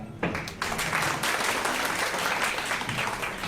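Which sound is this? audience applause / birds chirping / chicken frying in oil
audience applause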